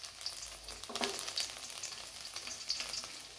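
Finely chopped garlic frying in a pan while cooking veg manchurian, giving a steady, close sizzle with faint stirring scrapes and no talking.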